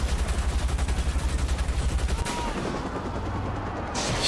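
Rapid automatic gunfire in the video game Watch Dogs: a loud, steady burst of evenly spaced shots for about two seconds, then a noisy lull.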